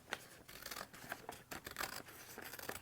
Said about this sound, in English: I'm going to recommend just trimming back that lining.